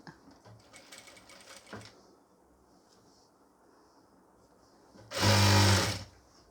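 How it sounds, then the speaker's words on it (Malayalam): A sewing machine stitches the folded hem of a pleated nightie in two bursts, a short light run early on, then a louder, faster whirring burst near the end, with quiet handling between. "ഇതേപോലെ തയ്ച്ചു കൊടുക്കാം കേട്ടോ"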